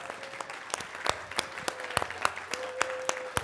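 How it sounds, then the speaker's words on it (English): Audience applause at a business conference session on operations and growth, sparse and fairly quiet, with distinct individual claps standing out over a soft crowd bed and a faint steady tone. "On your feet with a big round of applause"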